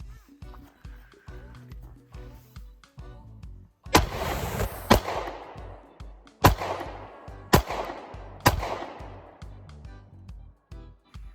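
Stainless-slide Sig Sauer P365 9mm micro pistol fired from a 10-round extended magazine: several loud close gunshots spaced about a second apart, each with a ringing decay, after quieter handling clicks and brief talk.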